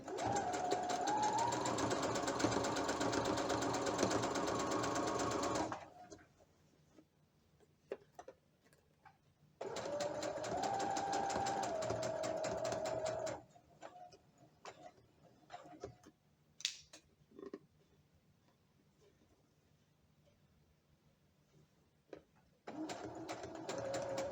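A sewing machine sews fabric for shorts with a straight stitch in fast, even bursts, stopping and starting three times, with quiet handling clicks and rustles during the pauses.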